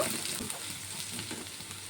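Steady sizzling of onions frying in a pan for a prawn malai curry, a continuous crackling hiss with faint stirring scrapes, close and alone.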